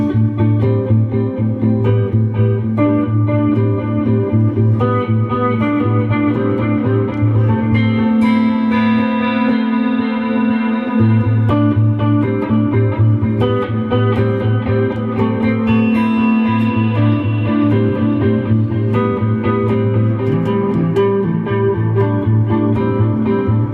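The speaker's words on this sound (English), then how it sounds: "So now with the delay," Electric guitar runs through an inexpensive delay pedal under $60, with sustained chords and notes trailing into repeating echoes, loud and continuous with a gentle chorus-like shimmer, no voices.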